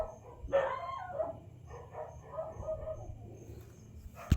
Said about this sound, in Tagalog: mayroon pong tumatahol po yung mga aso sa labas